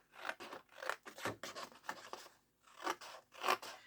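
Scissors snip through paper for a collage album, a series of soft, crisp cuts in an irregular rhythm, close and quiet with no voices.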